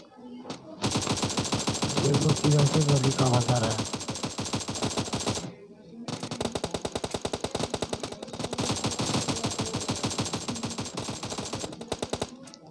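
Rapid automatic gunfire from a shooter video game comes in two long, loud, close bursts of fast repeated shots, split by a brief pause near the middle.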